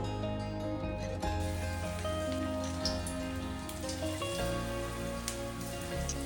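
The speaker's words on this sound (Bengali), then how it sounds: "গরম সাদা তেলে আমরা এবার পকোড়াগুলোকে ভেজে নেব" Vegetable pakoras fry in hot white oil, making a steady, dense crackling hiss that carries close and even throughout, with no voices.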